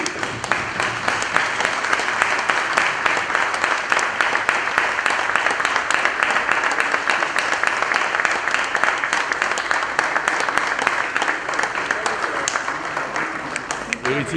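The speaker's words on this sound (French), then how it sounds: "à se tenir debout pour un maximum d'applaudissements en faveur du chef de l'État. Des ovations nourries." Sustained standing ovation from an assembly of deputies for the head of state, a dense, loud wash of applause holding steady through the whole stretch with faint voices mixed in.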